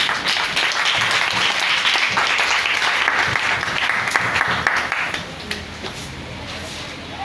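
A church seminar audience bursts into loud, sustained applause and cheering that fills the whole stretch, with voices mixed into the crowd noise before it eases slightly at the end.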